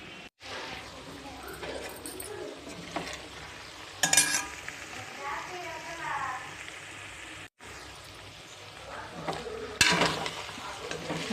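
Chicken curry is stirred in a pan with a utensil, a continuous sizzle with scraping strokes and occasional sharp clinks against the metal, under intermittent talk.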